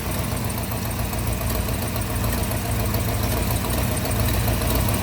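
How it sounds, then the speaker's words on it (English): A ratty big-block Ford Thunderbird, left sitting for two years and now with a header leak, idles loud and close in a constant rough rumble with a ticking edge, no talk over it. "Yeah, a little bit of a header leak over there."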